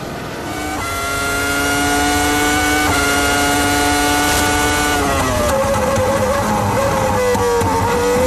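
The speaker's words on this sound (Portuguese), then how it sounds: "A saúde do motor Ferrari." A Ferrari Formula 1 engine screams onboard Schumacher's car at the San Marino Grand Prix, loud and close, rising steadily in pitch through the gears, with a sharp upshift partway through before climbing again.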